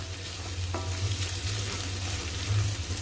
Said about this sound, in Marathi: आपण मसाले घालूया तेलावरती